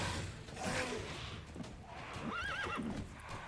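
Roach, a horse in The Witcher 3: Blood and Wine, gives a faint, distant whinny over the low clip-clop of hooves, then a clearer rising neigh midway through.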